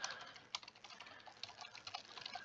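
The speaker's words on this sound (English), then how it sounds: "For me, it's a computer keyboard and type in Operation has been completed." Rapid clicking of typing on a computer keyboard, with a steady patter of keystrokes and a few sharper taps, fairly close and alone with no talk.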